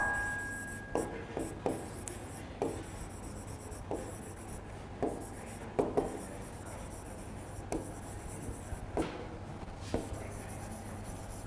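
Marker or chalk writing on a board during a lecture on attention mechanisms, heard as a series of short scratchy strokes in irregular bursts, close and fairly quiet over a steady low hum, with no talking.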